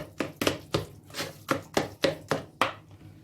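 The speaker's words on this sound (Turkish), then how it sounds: "O zaman sürekli böyle kaşıkla ezer gibi karıştırarak bütün malzemeleri birbirine karıştıracağız." A spoon mashes and stirs hummus ingredients in a bowl, giving about nine firm, evenly spaced knocks and scrapes close up, with no talking.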